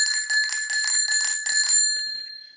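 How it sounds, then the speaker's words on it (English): A bicycle bell on a 20-inch blue 2012 BMX Thruster FS Rage rings close and bright in rapid repeated strikes, then the last ring fades out alone. "I got a bell tone right here, cycling tone."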